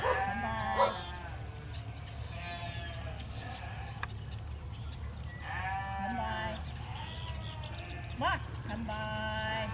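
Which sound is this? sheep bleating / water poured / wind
sheep bleating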